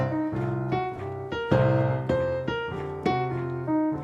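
Piano playing a blues-scale exercise in steady eighth notes, clear sustained tones stepping through the scale with a gently swung pulse, played alone and close.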